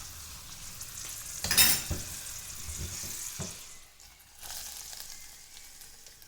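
Ingredients for sweet pongal being roasted and stirred in a pan, a soft steady sizzle with a few sharper scraping stirs and clinks, close and quiet with no talking.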